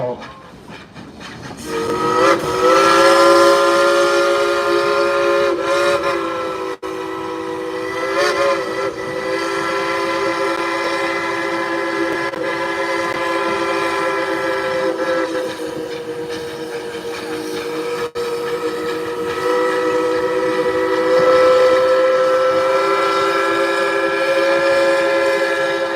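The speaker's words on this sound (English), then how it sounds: "let's tell him to blow the whistle" Steam whistle of the Dollywood Express locomotive No. 192 blows one long, loud, sustained blast with a brief dip partway, then carries on strongly for over twenty seconds, dominating the scene.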